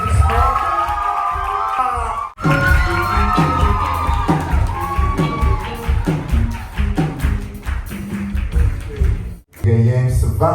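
Audience at a Bible recitation contest cheering and whooping loudly, a lively crowd roar with shouts and yells swelling and dipping, briefly broken by two short gaps.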